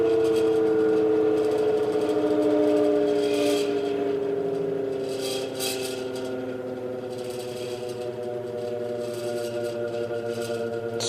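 An antique GE Vortalex fan set on medium speed runs slowly with a steady, close motor hum and a low whirring drone that holds throughout with no speech.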